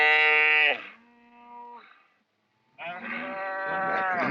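Young bull calves bawling loudly while being castrated at a ranch roundup, two harsh drawn-out cries with a softer lower moan between them and a brief quiet gap.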